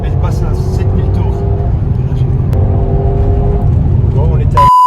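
A Mercedes GLC 63 AMG SUV engine revs hard toward 7000 rpm from inside the cabin, a loud continuous roar with rising harmonics, ending in a sharp shift to a steady high tone; people talk over it.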